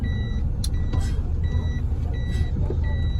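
A pickup truck backs up with its reversing alarm sounding a regular series of high, clear beeps, repeated about every half second over a loud, rumbling engine idle.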